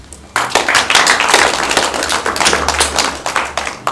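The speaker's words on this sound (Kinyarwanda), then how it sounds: "Abo rero nasaba yuko mwababera amashyi." Audience applause at a church gathering in Rwanda, a burst of dense hand clapping that starts abruptly and continues steadily, loud and close, with no speech over it.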